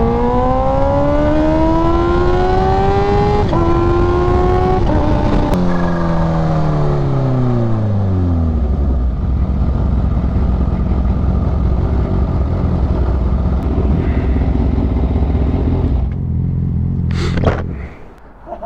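A Kawasaki Ninja H2 motorcycle with a new aftermarket exhaust pulls hard through the gears, its loud engine note climbing and dropping with each shift, then settles into a deep, steady drone before a few sharp pops at the end.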